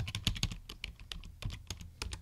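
Typing on a computer keyboard while setting up an Ubuntu Linux home file server, a quick irregular run of crisp close key clicks with short pauses between bursts.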